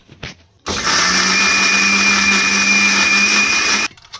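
A kitchen mixer grinder runs loud and close, whirring steadily for about three seconds as it grinds coconut and green chillies for chutney, then stops abruptly.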